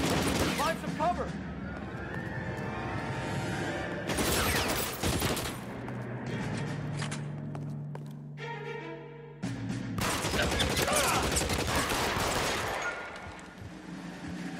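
Gunfire in the video game L.A. Noire: dense, sustained volleys of shots and rapid bursts over nearly the whole stretch, loud and continuous, with only a short dip in the middle, and voices talking underneath.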